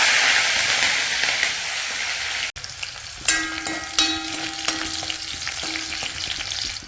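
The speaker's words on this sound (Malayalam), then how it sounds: "ഇനി 3 പച്ചമുളക് അരിഞ്ഞതാണ്, അതും കൂടി ചേർത്ത് കൊടുക്കാം." Chopped green chillies hit hot oil in a pan, starting with a loud hissing sizzle that drops after a sharp break, then continuing as steady frying with a few scraping stirs, near and without talk.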